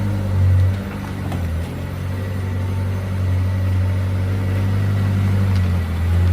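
A McLaren with an engine management light on and several faults pulls away, its steady low engine drone holding near and loud throughout with a brief swell early on.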